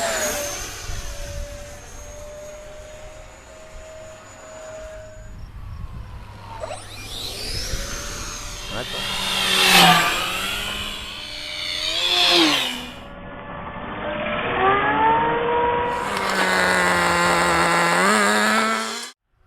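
E-Flite UMX Citation Longitude RC jet with twin 30mm ducted fans making a full speed pass, a high whine rising and sweeping in pitch as it approaches, roars close by and recedes, with a second loud pass near the end.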